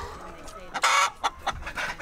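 Chickens on a farm field, moving across pasture after cows: several short, sharp clucks and squawks in an irregular burst, close by and fairly faint overall.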